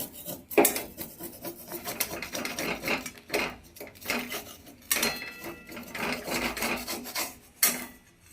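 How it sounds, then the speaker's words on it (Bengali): A chitoi pitha made from rice flour is scraped and lifted from a karai after the lid comes off, giving repeated rasping, scraping strokes of a metal utensil against the pan, close and fairly loud, with sharp knocks between them. "ঢাকনাটা খুলে আবার পিঠেটাকে সাহায্যে তুলে নেব"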